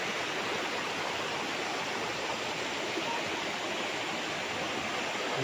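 A clear, clean river in Liliw, Laguna flows beside farmland, giving a steady, even rush of water that fills the whole moment without pause or voices.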